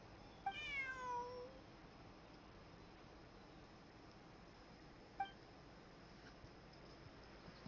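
A cat in Genshin Impact gives one clear meow near the start, then a short faint chirp a few seconds later, over quiet background hiss.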